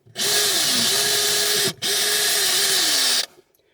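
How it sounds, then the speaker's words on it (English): A power drill bores through the top skin of a Burstner 744 motorhome in two loud, steady whining bursts with a brief pause between them, the pitch sagging as the bit bites. "I gingerly drilled through the top skin"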